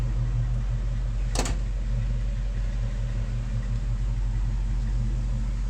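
Steady low V8 idle from a 1979 International Scout II running two aftermarket mufflers, a quiet, even rumble held throughout with one brief sharp click or clunk early on.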